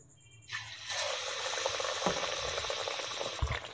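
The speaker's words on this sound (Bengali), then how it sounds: "তো দেখো ফ্রেন্ড, চপ ভাজা হয়ে গেছে, তো কিছুটা হয়েছে আর এদিকে এই কিছুটা ভাজবো" Aloor chop, spiced potato fritters, frying in hot oil in a home village kitchen, a steady close sizzle and bubbling that rises sharply and holds, with a few clinks and soft knocks breaking through.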